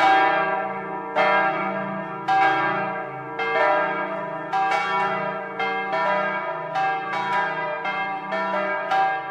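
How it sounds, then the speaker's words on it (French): Church bells of Saint-Firmin church in Vignacourt, France, peal in a steady, overlapping sequence, each strike ringing out with rich lingering tones; no voices, just the bells filling the air. "on n'entend que les cloches de l'église Saint-Firmin."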